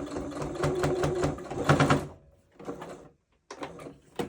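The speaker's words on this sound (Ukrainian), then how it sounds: "Голка заходить на змійку, ще трошки проходжу вперед, голку залишаю розвертаю тканину і виходжу таким чином в бік." A sewing machine stitching a zipper onto a pillowcase runs in a steady, loud mechanical whir for about two seconds, then stops, followed by short restarts of stitching with quiet gaps between them.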